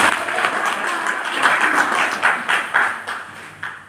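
Audience clapping at a stage event in Agastyamuni, many hands in a loose, uneven burst that thins toward the end into scattered, rhythmic claps, fairly close and with no talk over it.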